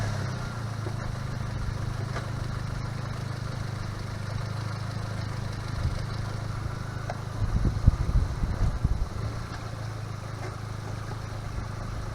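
A car engine idles just after an oil change. A steady, low, even hum continues with no talking, and a brief rougher rumble swells near the end.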